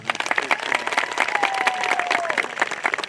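Steady applause from a crowd at a 2023 Governor's School for Agriculture graduation ceremony, dense clapping that fills the room and holds for the whole stretch, with a faint whistle-like tone gliding through the middle.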